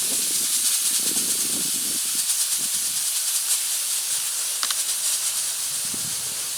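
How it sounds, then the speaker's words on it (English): Running water from a tap rinsing bleach off tomato seeds, a steady close hiss that holds at an even level, with faint handling sounds beneath it and no talking. "And now we're going to rinse off the bleach off the seed."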